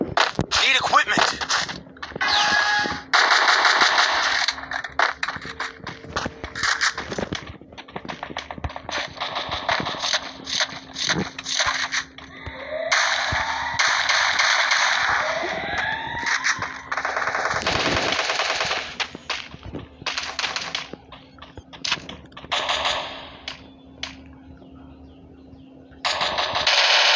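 Guns in the video game Free Fire fire repeated rapid automatic bursts, mixed with clicks and mechanical reload noises and broken by short gaps, over a long stretch.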